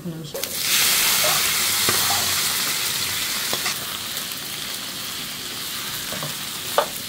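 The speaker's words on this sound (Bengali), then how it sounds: "এই যে রসুন ভাজা হয়ে গেছে।" Garlic fries in hot mustard oil after dried red chilies, a loud, continuous close sizzle and hiss with a few faint scraping stirs.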